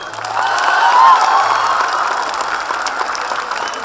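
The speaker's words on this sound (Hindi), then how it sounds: "एक बार नीरज जी के लिए जोरदार तालियां" Audience applause after a Kabir music performance, a dense sustained wash of many hands clapping that swells near the start and holds steady, loud and close, with a faint low hum in the room.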